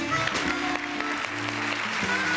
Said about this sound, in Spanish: Y el aplauso de la amable concurrencia para esta linda y talentosa mujer mexicana